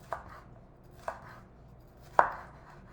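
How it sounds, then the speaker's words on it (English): A knife cuts Thai green curry ingredients into strips on a cutting board, three sharp, spaced thunks against the board, the last one loudest, in a quiet kitchen with no talking. "I'm gonna cut into strips and then cut in halves"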